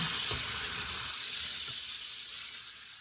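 Bacon sizzling in a frying pan, a steady close hiss and crackle with faint pops that eases slightly toward the end, no voices over it.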